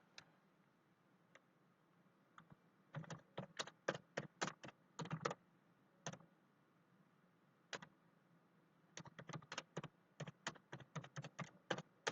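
Typing on a computer keyboard while entering ad text gives crisp, close key clicks in quick irregular bursts, separated by brief pauses, with no talking.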